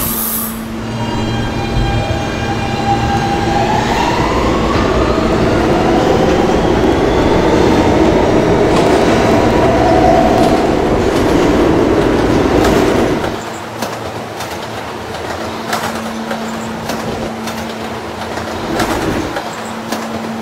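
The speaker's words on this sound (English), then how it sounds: "This is a 39th Street bound N local train." An R160B subway train on the N local line runs loudly with steady rumbling and rail clatter, a rising electric whine, then settles to a quieter hum with faint clicks as it slows.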